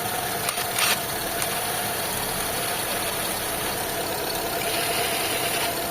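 Mitsubishi Lancer engine running steadily after a carburetor overflow repair, a close, even idle with a faint mechanical knock and a few short clicks, no talking.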